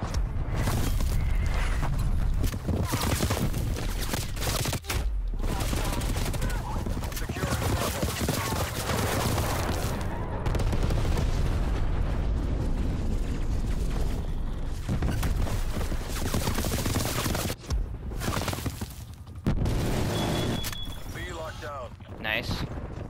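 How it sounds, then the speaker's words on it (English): Artillery strike explosions in Call of Duty: Cold War on a chaotic Nuketown match. Heavy booms and rumbling blasts pile up under a dense mix of game noise, with voices talking throughout. "I'm calling artillery to B."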